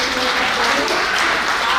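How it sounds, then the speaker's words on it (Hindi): A dense, steady burst of clapping from a crowd at a retirement farewell, loud and continuous throughout without any voices standing out. "तालियों की गड़गड़ाहट की आवाज़"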